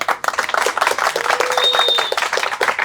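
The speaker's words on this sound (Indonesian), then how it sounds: "Belum tentu muji nih, udah ada tepuk tangan" A crowd bursts into dense, steady applause, many hands clapping close by with a few voices mixed in.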